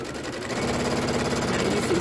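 A sewing machine runs steadily, stitching right along the edge of a quilted trapunto pineapple pouch, its rapid mechanical hum continuous and close throughout.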